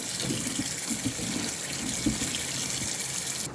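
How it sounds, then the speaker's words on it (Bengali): Bitter gourd being washed under a running kitchen tap, a steady close splash of water with small irregular spatters as the vegetable is rubbed, ending abruptly as the flow stops. "করলাটা খুব ভালোভাবে ধুয়ে নেব"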